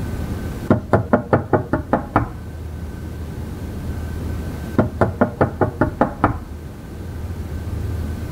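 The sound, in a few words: knocking on a door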